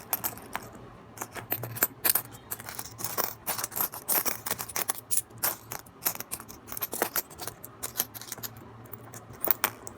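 Philippine coins are sorted and separated by hand, giving dense, irregular metallic clinks and jangles of coins striking one another, close and crisp, with no talking.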